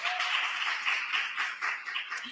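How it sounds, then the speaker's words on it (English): An audience at a public health event applauds sponsors, a steady, fairly close patter of many hands clapping that stays even across the moment with no voices over it. "Give them a round of applause."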